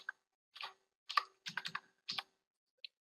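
Keys clatter on a computer keyboard while a page title is typed, in short separate bursts of clicks with pauses between them and a single last tap near the end, close and fairly quiet.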